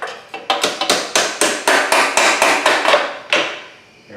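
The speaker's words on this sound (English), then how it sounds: "Claw hammer." A claw hammer strikes an exhaust collar bolt on a CRF 300L motorcycle, a rapid series of about a dozen sharp metallic blows in quick rhythm, close and loud, ending with one last hit.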